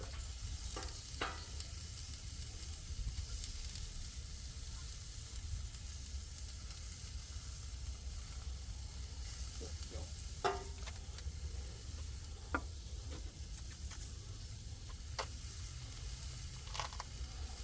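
A cabbage wedge seasoned with salt and pepper fries in a pan outdoors in winter, giving a faint, steady sizzle with scattered small pops and crackles throughout, close and without talk.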